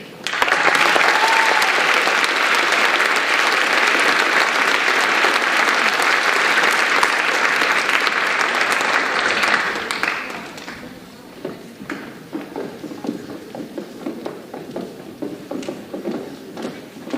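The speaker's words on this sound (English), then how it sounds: "How about another round of applause?" An audience at a school performing arts awards show breaks into loud, sustained applause for about ten seconds, then it thins to scattered claps and faint room noise.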